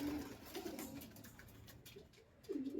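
A pet pigeon coos softly nearby during deworming, with two or three low rolling coos spread across a quiet room background.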